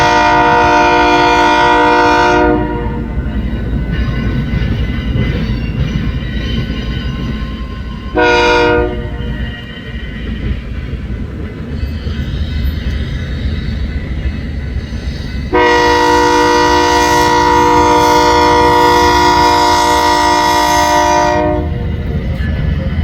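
A BNSF freight train crosses a railroad diamond, sounding loud horn blasts at the start, briefly midway, and again near the end, over a steady rumble of rolling wagons.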